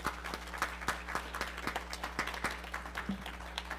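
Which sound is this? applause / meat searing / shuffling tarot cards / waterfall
applause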